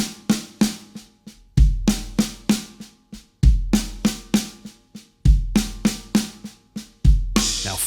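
A linear drum fill played up close on a kit mixes loud accented snare and tom strokes with quieter ghost notes and deep bass drum kicks, repeating in a tight, fast rhythm and ending on a crash cymbal.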